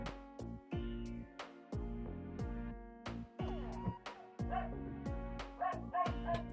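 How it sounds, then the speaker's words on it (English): Dogs in a video game bark repeatedly in short, loud yapping bursts with a few whimpers, a steady rhythm of barks filling the whole stretch with no talking over them. "I hate those dogs. Maybe if I say that enough, they'll shut up."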